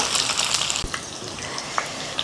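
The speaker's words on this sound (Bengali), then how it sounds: "তো পাঁচ মিনিট ধরে ভাজছি এটা এরকম একটা রং এসছে" Chicken malai kofta frying in oil over medium heat, a continuous bright sizzle with a few soft clicks and bumps, no talking.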